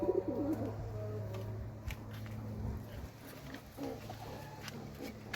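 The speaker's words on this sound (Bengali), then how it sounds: "এটা হচ্ছে মাদি কবুতরটা ঢুকে গেল।" A domestic female pigeon coos in low, soft bursts while settling into its nest, the murmuring calls close by over a steady low hum, with a few faint rustles and taps.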